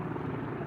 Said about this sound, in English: Somewhere up there through that dense fog or cloud, it's a helicopter.